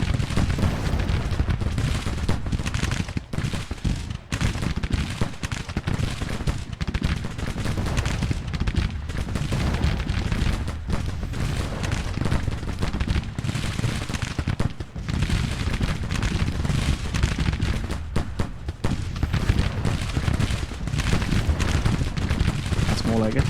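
Massed musket gunfire from Civil War infantry in the strategy game Grand Tactician: The Civil War, a dense continuous crackle of volleys and distant booms rolling on without pause, with a voice talking now and then underneath.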